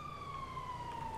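Ambulance siren in the GTA 5 video game: a steady high electronic wail sliding slowly downward in pitch, fairly faint and continuous with no talk over it.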